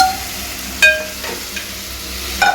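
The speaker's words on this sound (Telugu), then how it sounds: "నూనెలో వేసుకోవాలి ఫస్ట్ మంచిగా తాలింపులో" Chicken feet cook in an oil tempering with turmeric, a faint sizzle under a low hum, broken by a few sharp metallic clinks and scrapes of a utensil against the pan.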